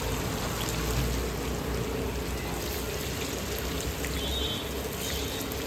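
Soya chunks deep-fry in hot oil for soybean chilli, making a dense, continuous bubbling hiss that stays close and even for several seconds.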